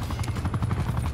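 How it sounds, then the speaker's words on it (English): A helicopter killstreak in Black Ops 4 multiplayer throbs loud and close, its rotor chopping in a fast steady pulse with no voices over it. "The helicopter's going off though."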